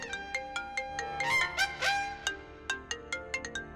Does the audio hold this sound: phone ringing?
yes